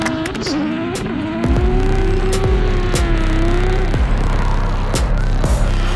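Drift cars slide through a corner at a UK drift championship round, engines revving high and rising with tire noise and rhythmic rumbling, loud and close without any talk.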